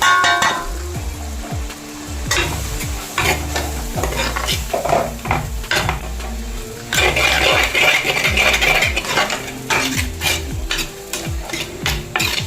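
Chilli powder, coriander powder and fish masala sizzling in hot oil for a Kerala tuna fish curry, loud and close, with repeated scraping strokes of a spoon against the pan and metallic clinks over the frying hiss.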